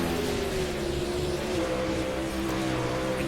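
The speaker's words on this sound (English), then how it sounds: "hear the motors free whine as they send them off into the corner" Sprint cars on the Knoxville dirt speedway, motors whining and revving high into a corner, a steady loud roar of several engines with no talk.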